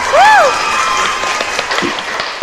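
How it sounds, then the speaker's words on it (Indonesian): An audience at a business talk event breaks into applause: a short whoop or whistle rises at the start, then a steady wash of clapping continues near and moderately loud. "Tepuk tangan dulu dong"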